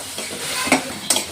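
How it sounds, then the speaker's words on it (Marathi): Chicken liver for Konkani-style kaleji masala fries in hot oil in a pan, giving a steady close sizzle broken by a few stirring scrapes. "आता पहिला आपण कलेजी टाकून घेऊया याच्यात तेलातच"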